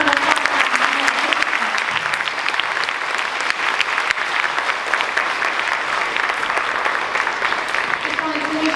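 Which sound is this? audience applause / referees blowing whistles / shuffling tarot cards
audience applause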